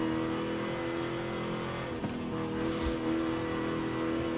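A Mercedes car in Forza Horizon 5 runs with a loud, steady engine drone that rises in revs, heard alone.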